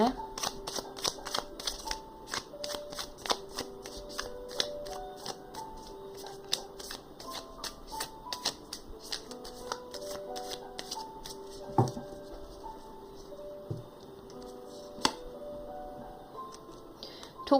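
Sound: shuffling a deck of tarot cards

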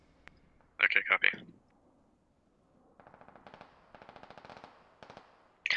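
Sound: assault rifle gunfire in the video game Squad

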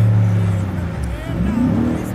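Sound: car accelerating in a video game

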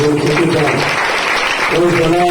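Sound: loud clapping by worship congregation

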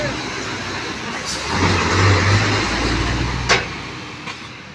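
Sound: rice combine harvester engine running in field

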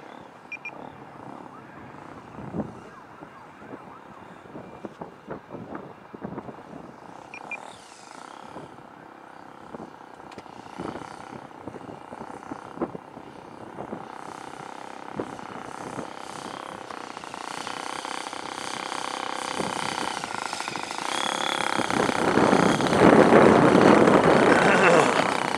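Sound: EAA biplane engine idling while taxiing

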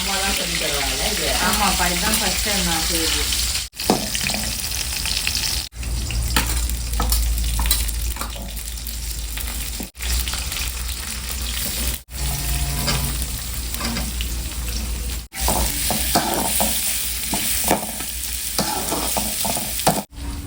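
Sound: sautéing onion, green chilli, ginger, curry leaves, mustard seeds

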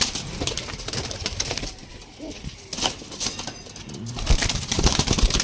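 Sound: pigeons cooing

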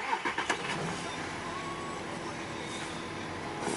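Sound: car engine starting

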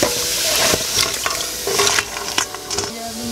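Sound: crab curry sizzling in pan

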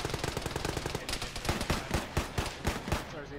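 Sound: machine gun fire in ArmA video game

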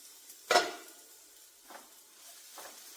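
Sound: opening lid of cooking pot

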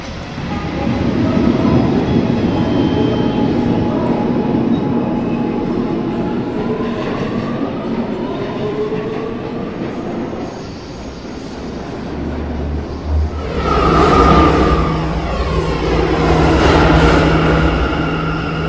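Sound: A express subway train departing in a Roblox video game

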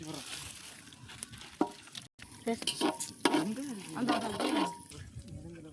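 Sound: stirring biryani in a pot outdoors

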